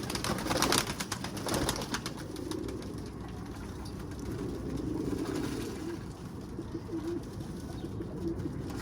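Pigeons coo in a loft, soft repeated throaty calls rising over a low background with occasional wing flutters and faint clatter, no voices present.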